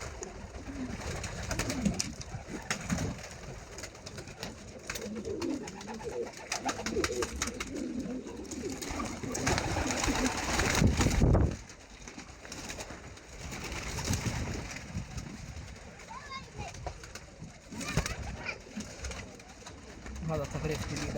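Meat pigeons kept for breeding coo softly and repeatedly in a loft, faint and somewhat distant, with people talking over them and occasional rustling and handling noises.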